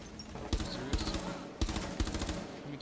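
Gunfire in Rainbow Six Siege, loud rapid automatic bursts in several short volleys with clear gaps between them, sharp and close over a dense game background.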